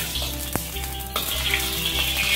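Hot oil spits and crackles in a wok after a wet ladle touches it, giving a steady close sizzle with a few sharp pops and a brighter hiss that swells toward the end.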